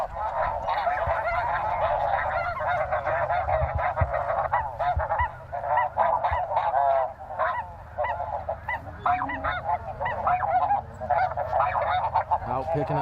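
A huge flock of snow geese honks constantly during a spring conservation hunt, a dense, continuous chorus of overlapping calls that stays loud and near throughout.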